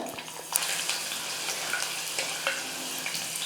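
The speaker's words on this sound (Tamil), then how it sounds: "கடுகு நல்லா பொரிஞ்சிடுச்சு ஒரு பதினஞ்சு பல் பூண்டு சின்ன சின்னதாக உரிச்சு எடுத்துக்கிட்டு அதை சேர்த்துக்கிறேன்" Peeled garlic cloves added to oil with popped mustard seeds crackle and sizzle in a pan, a close steady frying hiss with scattered small pops and clinks, no speech.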